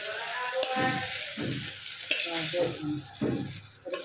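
Kuishak fruit and potatoes frying and being stirred in a pan, a steady hiss of sizzling oil broken by repeated scraping strokes of a spatula, close and fairly loud with no voices.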